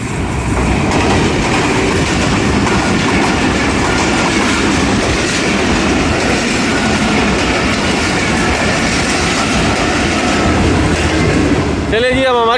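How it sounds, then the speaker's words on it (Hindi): Jaffar Express passenger train rushing past at high speed on Pakistan Railways, loud and close with a steady roar and rhythmic clickety-clack of wheels over rail joints, a brief wheel squeal near the end. "अब जाफ़र एक्सप्रेस ZCU 20 के साथ आ चुकी है और बड़ी स्पीड में आ रही है भाई"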